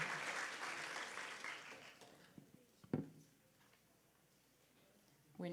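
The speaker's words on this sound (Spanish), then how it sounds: "Un aplauso, por favor, para Andrés García." A conference audience on global employability applauds speaker Andrés García. Dense clapping fills the first two seconds, thins to scattered claps, falls near silent, and a voice begins at the very end.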